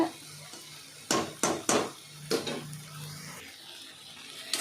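Bitter gourd pieces tossed and stirred in oil in a pan, with several sharp clacks of a spatula against the metal pan amid a faint, quiet sizzle, and no voices.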